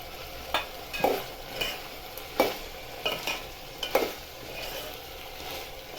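Green chickpea curry with green chillies and tomatoes being stirred in a pan: a soft frying hiss underlies about half a dozen distinct spoon scrapes and knocks at irregular intervals.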